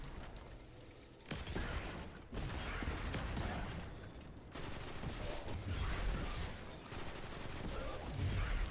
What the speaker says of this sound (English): Rocket launcher ended up being alright.